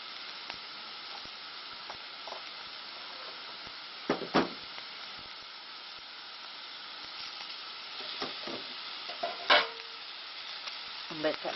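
About 2.5 tablespoons of butter melting in a pan for curried sausages gives a steady, quiet sizzle with a few louder crackles and pops scattered through it, with no talk.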